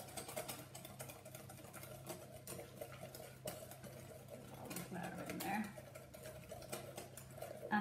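A corn flour mixture being whisked in a bowl, a fast steady scraping and tapping whisk rhythm held close and quiet under a person talking throughout.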